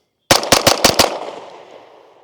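A Stribog SP45A3 .45 ACP fires a fast string of five loud, close shots through an American Arms compensator, each sharp crack blending into a ringing, decaying echo with no talking.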